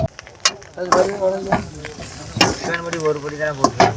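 Dried fish (karuvadu) frying in oil in a pan, a soft steady sizzle running under fairly loud conversation in Tamil, with occasional clinks and scrapes of stirring.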